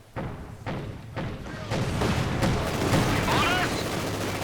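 Autocannon fire in Company of Heroes 2 rings out as a quick series of sharp thumping bursts, followed by a louder, denser rumble of battle explosions and gunfire as a commentator talks over the action.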